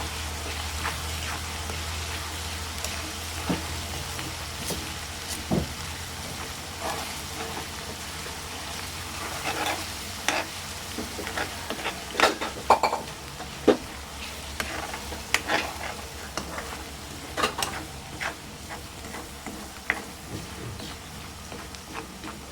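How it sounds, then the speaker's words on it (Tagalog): Garlic fries in a pot with a soft, steady sizzle while a utensil stirs it, giving scattered clinks and scrapes against the metal. The scrapes come louder and closer toward the middle and end. Nobody speaks. "Ato ni inikos-nikos para maluto atong bawang."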